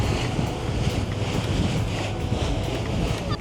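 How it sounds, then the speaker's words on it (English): Strong, steady wind buffets the microphone on the open deck of a cruise ship sailing in Alaska, a continuous roaring rush with low rumble and sea noise beneath, no voices. "It's very windy out here"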